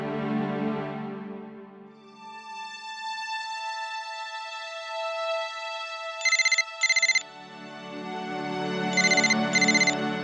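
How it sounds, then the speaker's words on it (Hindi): A phone ringtone plays a steady electronic melody, with brighter chiming bursts repeating in pairs, loud and close, with no talking. "फोन उठा।"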